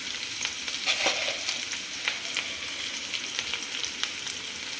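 Beetroot and chana dal frying in a pan, a steady close sizzle with scattered crackles and pops, no voices.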